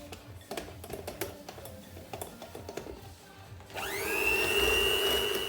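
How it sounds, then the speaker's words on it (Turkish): A few scattered clicks and taps, then an electric hand mixer switches on in pancake batter, whirring up quickly to a loud, steady high-pitched whine. "Burada hemen tekrar mikserimi kullanacağım."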